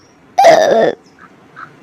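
A single loud, burp-like vocal burst from a person who has just eaten ghee-laden potato parathas, lasting about half a second, followed by quiet.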